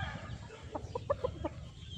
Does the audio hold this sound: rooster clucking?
yes